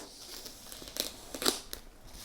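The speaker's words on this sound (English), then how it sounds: "I will unwrap issue 75." Plastic wrapping crinkles and tears as a Warhammer 40K Legends magazine, issue 75, is unwrapped. A few short, quiet crackles sound close by, with no talking.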